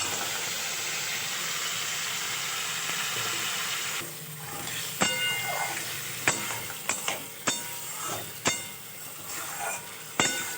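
Fried crabs go into a hot pan and sizzle loudly and steadily in a Bengali crab curry, with sharp clacks and stirring knocks in the second half.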